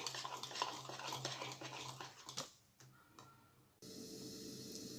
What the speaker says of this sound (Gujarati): તો આ રીતે આપણે 5 મિનિટ સતત ફેટી લઈશું